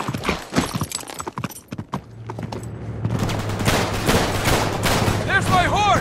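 Horse hooves clatter in the action game Uncharted 3: Drake's Deception, during a desert caravan chase, mixed with dense gunfire bursts and a steady low rumble, loud and busy throughout.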